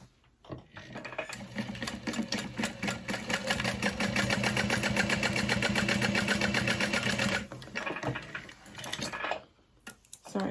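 A sewing machine top-stitching a fabric wallet, its rapid, even needle chatter running steadily for several seconds close by, slowing and stopping near the end.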